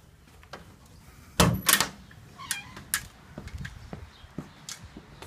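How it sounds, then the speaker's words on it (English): A house door opens onto a backyard with a loud clack and rattle, followed by scattered lighter knocks and footsteps, close and without talk. "Let's go out this door."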